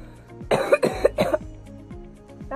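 A person gives three quick, harsh coughs close to the microphone, followed by quieter throaty sounds, in an otherwise calm indoor room.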